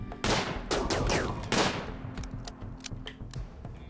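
Gunfire in the video game RimWorld, including assault rifle shots: several loud close bursts and single cracks in quick succession, then thinner scattered shots tailing off.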